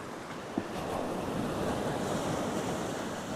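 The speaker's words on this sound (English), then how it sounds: "Okay, I can see a wave out the back. Let's wait for that to crash." Ocean surf at 1770, Queensland, Australia, with an incoming tide: a steady broad wash of breaking waves on the shore, mixed with wind buffeting the microphone, continuous and fairly loud.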